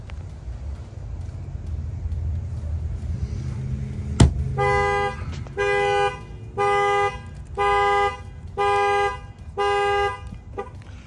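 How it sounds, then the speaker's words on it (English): A sharp click, then a 2024 Chevrolet Silverado's factory car alarm blares in repeated loud electronic bursts, evenly spaced and close by. "I'll go ahead and show you anyway that the alarm fires off"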